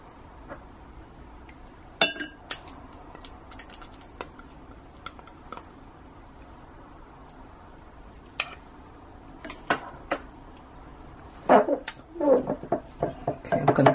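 A utensil stirs white colorant into soap batter in a bowl, giving scattered scrapes and light clinks that grow busier and louder near the end, with faint birdsong in the background.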